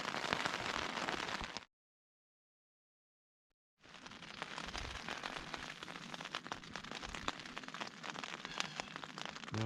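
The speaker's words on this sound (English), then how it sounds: "It was 2 hours later, still raining." Steady rain patters on a tent during a solo backcountry hike on the Uinta Highline Trail. The hiss is dense and continuous, with a gap of silence early on before the downpour resumes just as thick.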